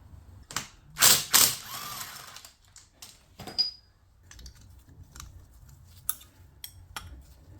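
A ratchet spins off engine case bolts on a Kawasaki ZX9R, giving bursts of rapid metallic clicking separated by quiet pauses, with a few tool knocks and clatters in between.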